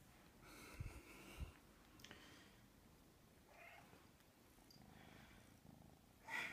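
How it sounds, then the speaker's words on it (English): Two 15-week-old kittens purring and snuffling close up, soft and steady, with a few faint chirps and a brief louder meow-like sound at the end. "Right then, let's go and show you my kittens."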